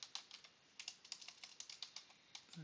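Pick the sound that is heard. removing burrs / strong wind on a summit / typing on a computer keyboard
typing on a computer keyboard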